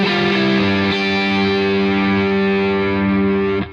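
Electric guitar played through Most distortion and Super Sweet pedals rings out as one loud, sustained, saturated chord with thick harmonics, holding steady for several seconds before cutting off, with no voices.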